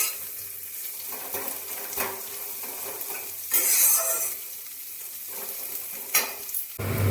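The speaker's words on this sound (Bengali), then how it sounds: "পেঁয়াজটা সুন্দর লাল লাল করে ভাজা হয়ে গেছে" Chopped onions frying in a pan for an omelette curry, a steady sizzle with several sharp scrapes and clinks of a spoon stirring against the metal.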